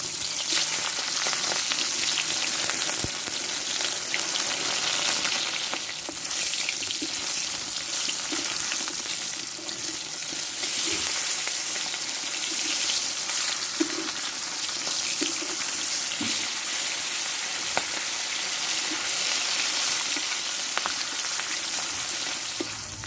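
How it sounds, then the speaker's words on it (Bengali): Rohu fish, coated in salt and turmeric, sizzles loudly in hot mustard oil, a steady crackling hiss that runs without a break from start to finish, with no voices. "দিয়ে লবণ হলুদ আমি মাখিয়ে নিয়েছি মাছটা আমি ভেজে দেবো"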